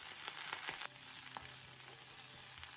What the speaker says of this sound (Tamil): 4லேருந்து 5 பச்சை மிளகா, 3 பல் பூண்டு, கூடவே ஒரு கைப்பிடி அளவு புதினா சேர்த்து லோ ஃப்ளேம்லேயே வதக்கிடலாம்